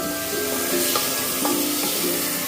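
Squid pieces dropped into hot masala in a pan give a steady, close sizzle and crackle that runs for a couple of seconds, with faint stirring or scraping touches and no speech.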